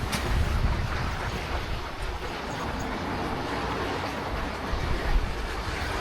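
Water rushes steadily through a waterway beneath a bridge in Garmisch-Partenkirchen, a continuous broadband wash with gusty wind noise on the microphone, fairly loud and unbroken throughout.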